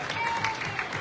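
An audience claps for young mini-basketball players at a basketball club party in Mestre, a steady, fairly soft wash of applause heard briefly.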